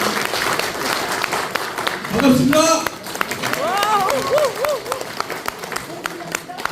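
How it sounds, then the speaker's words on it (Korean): An audience at a lecture breaks into applause, a dense wash of clapping that swells and fades, with a presenter's voice speaking over it and a brief burst of laughter-like vocal sounds. "큰 박수로 우리 이종구 대표님 응원해 주시기 바랍니다."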